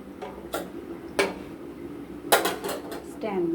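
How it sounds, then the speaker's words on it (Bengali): A metal stand goes into a karai of water heating on the stove, making a series of sharp, close metallic clinks and clatters spaced irregularly over a quiet background. "জলটা গরম হতে ওর মধ্যে একটা দিয়ে দেবো স্ট্যান্ড"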